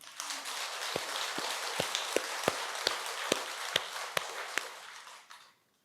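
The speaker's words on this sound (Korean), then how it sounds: "우리 박수 한번 칩시다" An audience at a Buddhist temple ceremony applauds together, a dense, even patter of many hands clapping at moderate distance, with a few sharper claps standing out before it stops abruptly.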